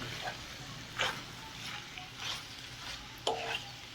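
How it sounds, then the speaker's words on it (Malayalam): A paneer and okra curry is stirred in a pan. Soft, faint scraping strokes come a few times at irregular intervals over a low background sizzle, with no talk. "എല്ലാം കൂടി ഒന്നും കൂടി ഒന്ന് മിക്സ് ചെയ്യാം."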